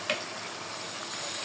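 Desi (country) chicken being stir-fried in a pan over medium heat with no water added, a steady close sizzle with one brief clink near the start.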